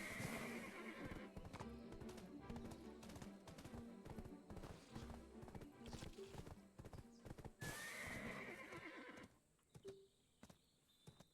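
Rhythmic horse hooves clip-clop steadily alongside a loud whinny in Black Desert, set amid busy game sounds and music; the scene drops quieter near the end.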